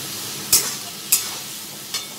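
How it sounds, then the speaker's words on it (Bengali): Prawns fry in a pan seasoned with salt and cumin powder, giving a steady soft sizzle broken by three sharp stirring scrapes spaced about half a second apart, with no voices. "এবার এটা আমি ভালো করে ভেজে নেব।"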